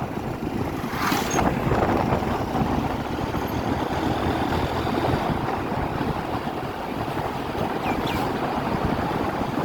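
Buses and traffic pass along the Jessore–Jhenaidah highway in a continuous broad roar of engines and road noise, steady and close, with no speech.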